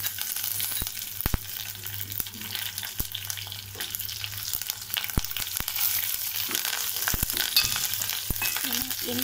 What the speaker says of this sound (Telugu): సరే ఆవాలు పేలుతున్నాయి, ఇప్పుడు ఎండమిర్చి